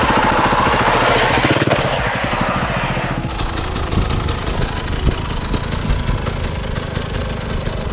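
An enduro dirt bike engine runs loud and close throughout while riding steep descents and drop-offs, its raspy revving shifting in pitch as the throttle changes.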